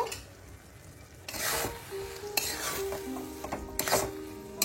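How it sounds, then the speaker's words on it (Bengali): Tamarind pulp being stirred into leftover panta bhat rice khichdi in a pan, with scraping, rubbing spoon strokes and a light sizzle rising after a quiet start, close and moderately loud, no talking. "আমি এবারে এই তেঁতুলের পাল্পটা অ্যাড করছি, করে একটুখানি নেড়ে নেব।"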